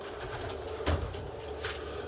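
Pigeons coo softly in their loft sections during a humid trapping and feeding session, a brief low throaty call rising once over steady background hum, with faint rustling around it.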